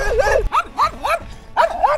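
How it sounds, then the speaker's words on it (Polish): Dogs bark relentlessly nearby in a loud series of rising, yelping barks, about six in quick succession with a short pause before the last pair. "Szczekające niemiłosiernie psy."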